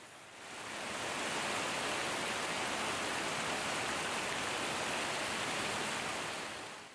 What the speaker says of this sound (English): Water gradually filled the chamber, and as the water level rose, it took the boat with it.